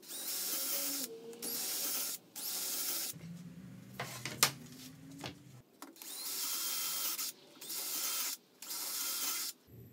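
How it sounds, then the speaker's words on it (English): A power drill whirs through wood in several separate bursts, each a few seconds long, drilling mounting holes for a wooden chopper bike frame, with short quiet pauses and faint clatter between them. "drilling the mounting holes all the way through."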